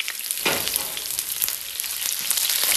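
Onions sizzle in a hot pan for fried ramen, a continuous bright crackle with occasional louder spits and stirring bursts, close and steady with no talking.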